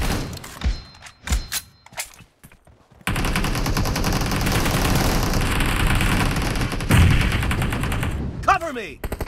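Rapid automatic gunfire rattles nearly nonstop through a team deathmatch video game, loud and dense after a few scattered opening shots, ending with brief whizzing effects.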